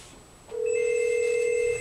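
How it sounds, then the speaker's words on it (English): An indoor telephone rings during a talk on Village Telco mesh WiFi networking, one sustained electronic ring tone that starts abruptly and holds steadily for over a second, with no voices. "That'll be the phone, Reg."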